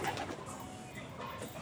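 Pigeons in a cage coo in low, rolling murmurs, several birds close by producing a soft continuous burble with faint chirps, no voices.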